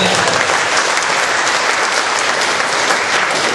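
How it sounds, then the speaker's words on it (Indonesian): An audience at a motivational seminar breaks into dense, loud, sustained applause, many hands clapping evenly throughout with no pause. "Tepuk tangan untuk saudara."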